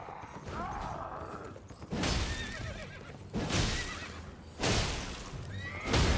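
A horse in the Elden Ring video game neighs and whinnies several times in separate bursts, loud and close, over a low background of game ambience.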